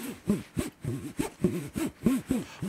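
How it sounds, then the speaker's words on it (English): A bottle being handled up close, giving about eight quick rhythmic rubbing, scraping strokes in a steady back-and-forth pattern. "It's my bottle. It's just me doing this."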